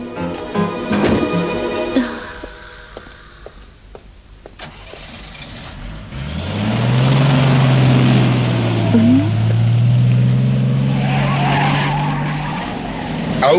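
A cartoon car from a Sherlock Holmes animated episode skids with a long, loud tire squeal that sweeps and holds for several seconds after an engine revs and a few sharp knocks, with no talking over it.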